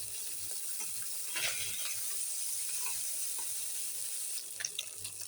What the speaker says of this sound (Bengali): তেল গরম হয়ে গেছে বন্ধুরা, মাছগুলো একটু হালকা ভেজে নেব